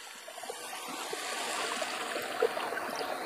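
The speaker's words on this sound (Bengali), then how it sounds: "তো এখন আমি ঝোলের পানি দিয়ে দিব।" Water pours steadily into a pot of fried rice and lentils for khichuri, making a soft, continuous splashing trickle close by, with no talk.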